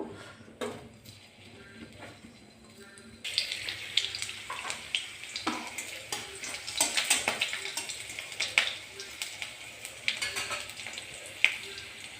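A paste of ginger, cumin and fennel with a bay leaf goes into hot oil, where a soft hiss begins about three seconds in and carries on with small crackles and pops, fairly quiet and close.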